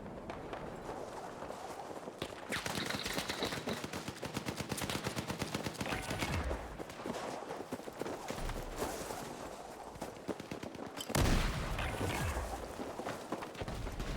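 Gunfire rattles through a Battlefield 6 Red Sec quads match as near-continuous rapid bursts of automatic fire, with heavier blasts partway through.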